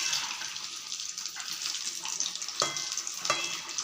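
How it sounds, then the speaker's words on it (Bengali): Fish frying in a pan for a spicy kalia curry, a steady bright sizzle with a few louder spits and pops as the pieces shift, close and continuous with no voices. "এদিকে দেখো মাছ ভাজছি"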